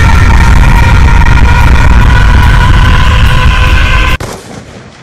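Loud, sustained gunfire roars nonstop in a shooting video game, then cuts off abruptly after about four seconds and leaves a fainter rumbling tail.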